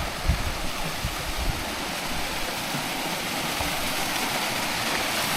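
Crystal-clear mountain stream in the Andes, a steady broadband rush of flowing water heard close and continuous, with no voices.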